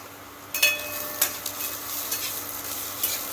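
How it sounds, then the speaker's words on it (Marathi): Onion, coconut, garlic and ginger roasting in a pan give a soft background sizzle broken by a few scraping stirs and small knocks of a spoon, close and quiet, with no one speaking. "आता आपण एक कांदा आणि खोबरं भाजून घ्यायचं चांगलं"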